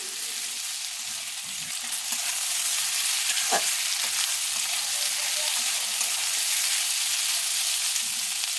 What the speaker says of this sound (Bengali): সেই পেঁয়াজ কুচিগুলো খুব ভালো করে ভেজে নিতে হবে